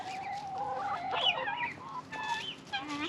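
Hens cluck and chatter in a winter chicken coop with the back door open, a mix of short clucks and rising squawks at close range, fairly busy and alone without talk.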